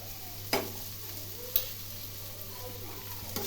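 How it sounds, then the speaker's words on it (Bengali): Pieces of ash gourd frying in a pan while being stirred, giving a soft, steady sizzle with a few sharp clicks of the spatula against the pan. "বারবার করে নেড়ে নেড়ে ভেজে নিতে হবে।"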